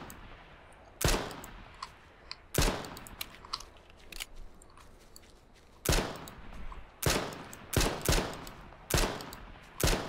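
Gunfire in H1Z1 Just Survive cracks out in about ten sharp, loud single shots spaced irregularly, some in quick pairs, with quiet gaps between them.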